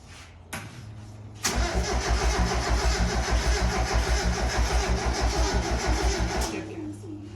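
A Mazda Miata engine fitted in a go kart cranks briefly and then catches, settling into a loud, throbbing, lumpy idle close by before dropping off near the end.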